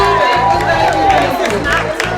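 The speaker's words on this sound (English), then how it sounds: "We give them a big round of applause for letting us be able to be here" A crowd at a jazz and blues charity fundraiser applauds and cheers loudly for the venue owners, with steady clapping, shouts and whoops blending into a dense, continuous roar.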